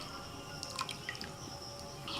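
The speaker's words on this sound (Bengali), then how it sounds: "আর একটু সাদা তেল দিচ্ছি।" A little white cooking oil poured into a pot of water spiced with bay leaves, cardamom, cinnamon, cloves and salt for a vegetarian paneer biryani: a few faint, scattered drips and soft splashes over quiet background hiss.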